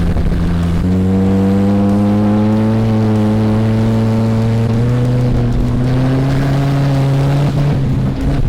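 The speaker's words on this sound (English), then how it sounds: "Smokes the tire going around the corner." A car's engine drones loud and close as it takes a corner fast, the tire smoking, its pitch climbing gradually in a sustained revving hum with no talk over it.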